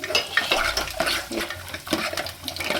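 Raisins and cashews fry in hot oil, giving a close, uneven sizzle broken by repeated stirring scrapes and light clinks of a spoon against the pan. No voices are heard.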